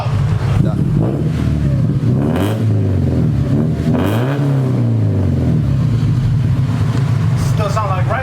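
A boosted Honda Civic fitted with a Ktuned muffler revs in a few rising and falling pulls, deep and loud up close, with people talking over parts of it.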